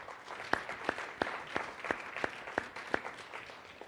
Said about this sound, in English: How about one more round of applause?